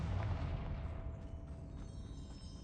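A Confringo fire-blast spell explosion in Hogwarts Legacy, a deep booming burst that rumbles and slowly fades, fairly loud and close, with no talking over it.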